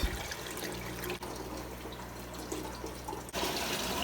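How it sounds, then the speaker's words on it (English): Steady rushing and trickling of water draining through an aquarium overflow, a continuous gurgling flow heard up close with no voices. "So the water is going to drain to a certain point."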